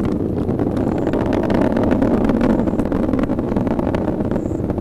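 A SpaceX Falcon 9 rocket climbing through maximum dynamic pressure on the CRS-15 launch gives off a continuous low, rumbling roar, loud and steady, with crackling texture throughout.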